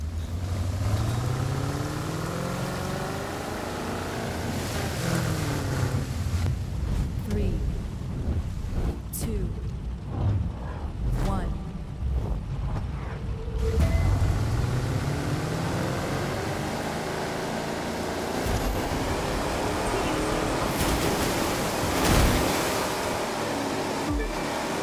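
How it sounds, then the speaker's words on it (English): A racing boat skims and crashes over rough ocean waves in the game The Crew 2, with a continuous engine roar and a rushing surf wash running for the full stretch while a voice talks over it. "Racing on the ocean's not like racing on rivers and lakes. You've got to fight the waves"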